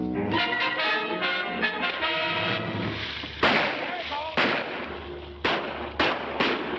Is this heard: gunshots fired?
yes